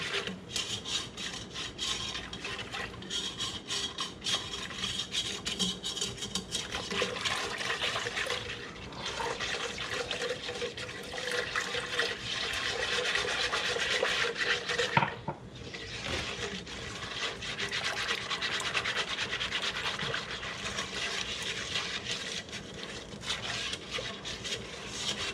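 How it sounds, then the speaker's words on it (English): A bowl of cocoa-powder chocolate pudding mix is scraped around its sides, giving continuous soft rasping strokes at moderate volume with no one speaking. "Scrape the sides a little bit because there's going to be that cocoa powder that got on the edges."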